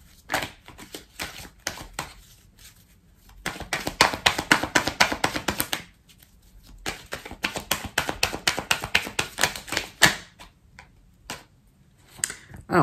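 Tarot cards from a Gilded Rêveries deck are drawn and laid out in a nine-card spread, giving close, crisp ticking and tapping clicks in quick clusters separated by short quiet gaps.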